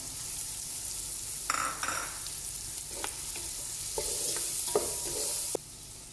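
Masala stirred in a frying pan for beef kabsa, with onion already cooking, a steady sizzle under scattered scrapes and clicks of the spoon, close and fairly quiet, no talking.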